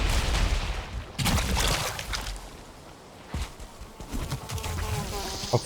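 Insect buzzing from mosquitoes in the survival game Valheim swells and fades across the stretch, with a few sharp impact-like bursts breaking through.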